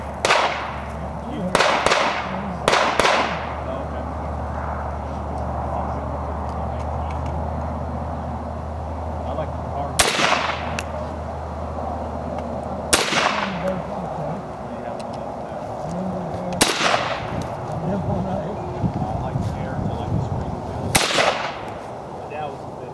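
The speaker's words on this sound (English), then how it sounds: "Here's your carbine. I'm really excited to try it out." M1 carbine rifle fired at an outdoor shooting range: six sharp, loud gunshots spaced several seconds apart, two in quick succession near the start, over steady background noise and talk.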